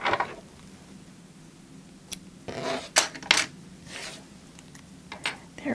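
Scissors snip through crochet yarn while finishing a small tic-tac-toe board, giving a few quick, close, crisp cuts and rustles separated by short pauses, with no talking.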